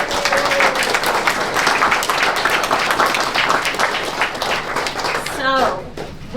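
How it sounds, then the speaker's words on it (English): Audience applause at a brown bag storytelling talk, dense steady clapping filling the room for about five seconds before it thins out and a voice briefly cuts through near the end. "So I give a big round of applause to all the people who wrote for this book."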